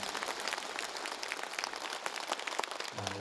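A crowd fills a Cheontae Buddhist temple hall in Icheon with dense, continuous applause for the dedication of its main hall, the clapping a soft, even wash that gives way to a low hum at the end.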